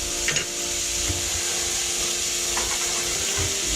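Meat for an English cottage pie frying in an oiled pan, a steady sizzle running throughout with a few soft knocks and scrapes of a utensil, close and free of talk.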